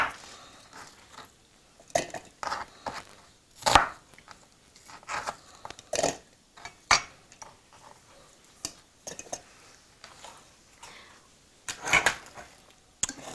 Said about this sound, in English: we'll put in the onion, just chop it coarsely